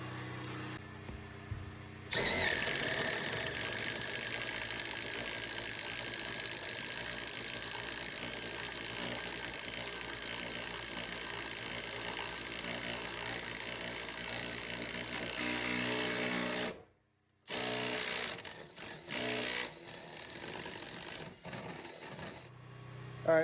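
A power drill bores holes for electrical wiring runs to the boxes, giving a long steady grinding whir that cuts out briefly before short intermittent bursts resume.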